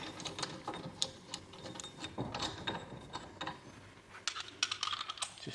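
A 17mm socket on an extension ratchets and clicks against the aluminium wheel spacer nuts of a Smart Roadster Brabus Coupe, giving close, quick, irregular metallic clicks and scrapes with no talk.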